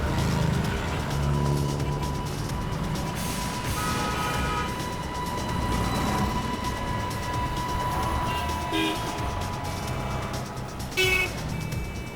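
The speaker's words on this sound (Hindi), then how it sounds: "लगता है यही गाड़ी है सफेद वाली" A white car rolls in with a steady road rumble, joined midway by a short horn toot and a brief sharper squeal near the end, without speech.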